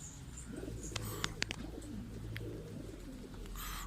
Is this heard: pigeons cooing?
yes